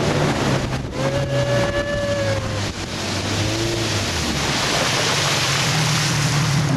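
A boat moves across the water with a steady rush of waves and wind, a motor humming underneath, and a few brief tonal calls.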